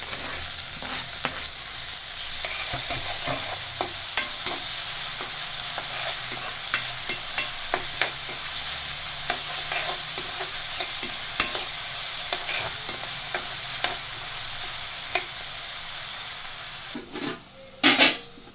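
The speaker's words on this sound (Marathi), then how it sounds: "त्यानंतर आपण याच्यामध्ये घालतोय चिरून घेतलेला टोमॅटो।" Chopped tomato stirred and fried in a pan for a wild-vegetable dish, a steady sizzle and hiss running throughout with repeated sharp clicks of a spoon scraping the pan, and a louder clatter near the end.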